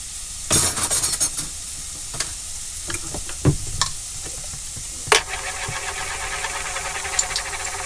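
Garlic and ginger hit hot oil in cooking pans, bursting into a bright sizzle, then a steady fry with scraping spoon stirs and a few clanks of utensil against metal.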